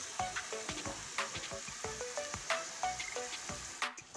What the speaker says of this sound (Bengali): এই দেখুন মশলাটা একদম লাল করে ভেজে নিয়েছি, মশলা থেকে তেলও ছেড়ে গিয়েছে।